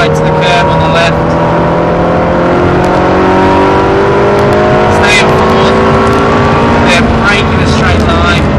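A Ferrari engine accelerates hard around the Silverstone circuit, loud and close. Its droning tone rises steadily as it revs, and someone talks over it throughout.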